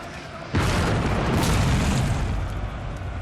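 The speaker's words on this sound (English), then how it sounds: "we're still having our artillery firing into our own men over here" A World War I artillery barrage in Total War: Great War, shells firing and exploding as a sudden loud boom that settles into a dense, rumbling roar of blasts lasting several seconds, with no talking.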